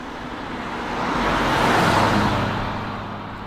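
A 1979 Mercedes-Benz S-Class W116 350 SE with a V8 drives along, giving a steady broadband rush of engine and road noise that swells and peaks midway before easing slightly, with no voices.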